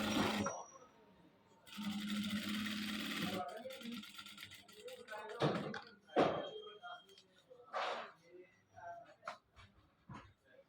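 A sewing machine stitches a folded strip of fabric in a tailoring demonstration, with a steady mechanical whir in two or three short bursts between pauses as a voice talks nearby.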